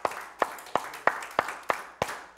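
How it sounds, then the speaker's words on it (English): A church congregation clapping together in a steady, even rhythm of about six strong claps, each evenly spaced and moderately close, with no voices over them. "Give the Lord a hand clap tonight"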